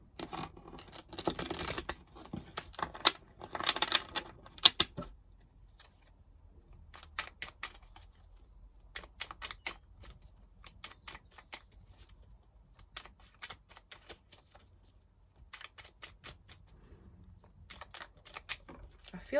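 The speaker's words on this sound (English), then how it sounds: "We're going to cut this deck as well." A tarot card deck being cut and handled by hand, giving light papery flicks and clicks in scattered bursts, close and fairly quiet, with no talking.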